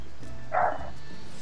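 A single short dog bark, a quick mid-pitched woof, heard once against quiet room noise.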